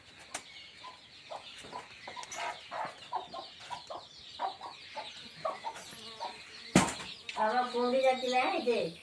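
A hen clucks steadily in short rhythmic bursts nearby, then a sudden clatter and flapping lead into louder, agitated clucking and squawks.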